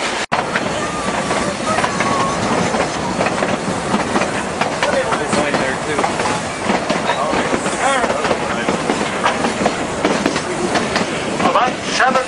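A mountain railroad train rolls steadily along the rails, a loud, continuous rumble with rhythmic wheel clatter and occasional squeal, close and unbroken throughout.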